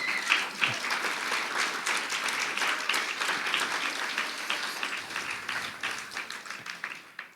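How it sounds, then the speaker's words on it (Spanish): A church congregation bursts into sustained applause, a dense wall of many hands clapping at once that stays loud for several seconds before tapering slightly toward the end, with no speech over it. "da un aplauso al Señor"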